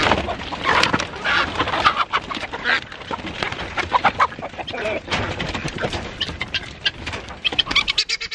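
Chickens on a homestead cluck and squawk in a busy, irregular stream of overlapping calls, close and fairly loud, with scratching and rustling mixed in.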